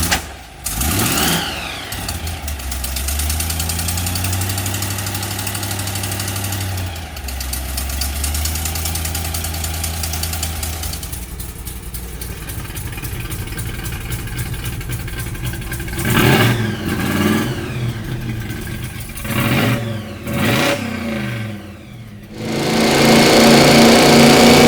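A garage-built 1955 Chevy Gasser with a 600-horsepower engine idles with a loud, lumpy rumble, then rises through several sharp revs in the second half, ending in a sustained roar.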